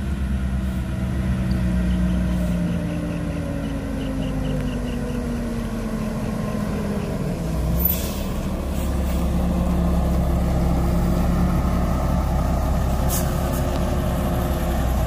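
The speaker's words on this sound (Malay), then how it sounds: "Okey, bas yang seterusnya, yang ke-6 yang ke-6 untuk hari ini." A bus approaches with a steady low engine rumble that shifts pitch as it slows, followed by a brief hiss of air brakes and a renewed idle.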